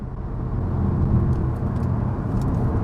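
A 1989 Nissan with ATTESA-ETS all-wheel drive pulls away again after braking, a steady mid-pitched engine drone and road rumble from inside the car, with no talk over it.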